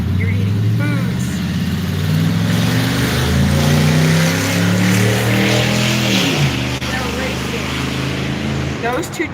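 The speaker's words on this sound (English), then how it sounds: "those two trucks were racing." Two trucks race past close by, their engines revving loudly with pitch climbing and falling as they accelerate, a rough roar that holds through the clip and dips briefly near the end.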